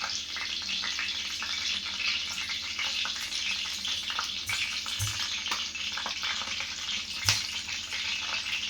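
Taro (chembu) pieces frying in oil on a flat dosa pan, giving a continuous close crackling sizzle with a few sharper pops and clicks, steady throughout and without any voices.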